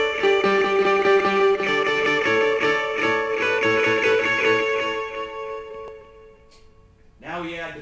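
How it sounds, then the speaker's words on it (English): Electric guitar playing a riff through a 350 millisecond delay, repeating notes echoing steadily, then fading out before a short burst of other sound at the end. "So the 350 millisecond delay alone sounds like this."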